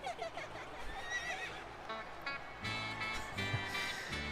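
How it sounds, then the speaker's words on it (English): Horse neighing and whinnying during a wrestler's ring entrance in the video game WWE 2K25, the whinny rising and falling over loud arena music and crowd noise, with a second burst near the end. "The giggling and the horse sound effect."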